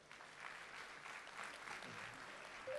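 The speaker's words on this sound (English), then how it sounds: "a huge round of applause to Aniruddh and Tony" Applause from an audience at an Android developer talk in Mumbai, a soft, steady patter of clapping heard from a distance and fairly faint throughout.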